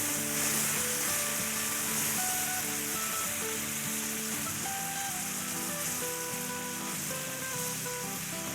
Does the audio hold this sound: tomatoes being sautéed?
yes